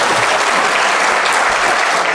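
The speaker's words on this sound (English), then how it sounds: "You have to give a great applause." Dense, loud applause fills the hall at a valedictory function for Professor Phatak, a continuous even roar of many hands clapping together with no break.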